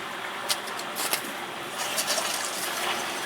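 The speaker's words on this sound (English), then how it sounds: "Turn the cold water on." Cold water running steadily into a residential hot water heater tank being refilled after a flush, a continuous faint hiss and trickle with a few small knocks, no talking.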